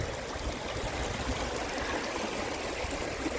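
Water in a desert-hiking creek on the Grand Enchantment Trail between Phoenix and Superior, a steady close rushing babble with bright splashy texture that continues evenly throughout, with no voices.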